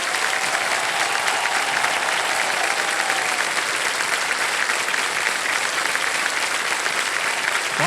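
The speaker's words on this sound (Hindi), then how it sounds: "तालियां बजती रहें इनके लिए।" Studio audience applause on the KBC quiz show after a contestant wins five lakh rupees, a steady, full crowd clapping that continues evenly for about eight seconds without talk.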